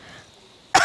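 A single sharp cough from a man sick with flu after being caught in the rain, loud and close, bursting out near the end after a quiet stretch.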